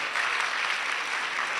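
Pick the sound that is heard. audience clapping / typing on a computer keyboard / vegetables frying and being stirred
audience clapping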